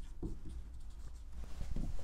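A pen draws a physics diagram of a ramp, giving soft scratchy strokes and taps in short irregular bursts, close and quiet.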